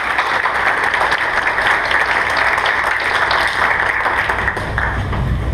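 A crowd at a political debate in Chipley, Florida, gives loud, sustained applause for the superintendent of schools, a continuous wash of clapping at close range throughout, with no talking over it.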